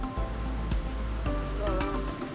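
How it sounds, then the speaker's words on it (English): Water rushing in a large mountain creek along a Colorado trail near Browns Creek Falls, a steady broadband wash close by with no talk over it. "there's a giant creek in the way"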